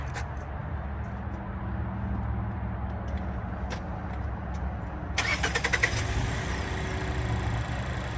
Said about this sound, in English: I'm gonna put the car in neutral, start it, let the fluid circulate